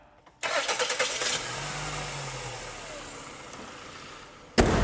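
A car engine cranks briefly with a few rapid starter pulses, then catches and settles into a steady idle after repair of its accessory belt drive system, running close and alone before a sharp noise at the end.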